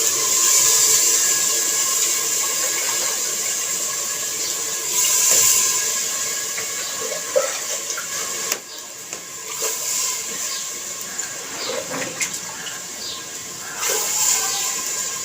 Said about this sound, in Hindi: जी तो दोस्तों अब हम पानी लगाने लगे हैं।